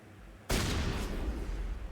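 A sudden burst of sustained, loud gunfire in the video game Mass Effect erupts after a brief quiet moment and keeps rattling on without pause.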